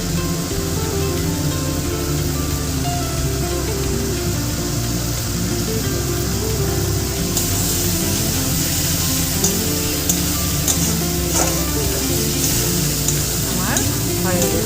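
Ghee sizzles and fries steadily with bottle gourd in a hot pan, a continuous broadband crackle with occasional stirring clinks, close and fairly loud, with no talk over it.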